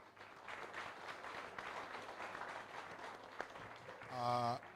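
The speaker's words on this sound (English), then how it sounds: "big applause for our panel" Applause from the audience at a live university communication and media event, a steady wash of clapping for the panel with a louder burst near the end.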